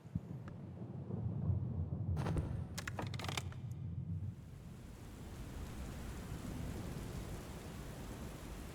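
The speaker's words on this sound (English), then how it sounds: "Thunder roaring, lightning lash skies." A thunderstorm with rain gives a steady wash of rain noise and a low rumble of thunder, with a brief cluster of sharp crackles before the rumble fades into continuous rain.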